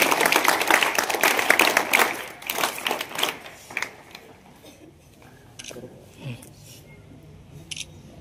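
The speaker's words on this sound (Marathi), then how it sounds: "जोरदार टाळ्या वाजवा" A crowd claps loudly for a state-level school judo gold medalist at a school felicitation. The dense applause lasts about four seconds, then thins to a few scattered claps and faint murmuring voices.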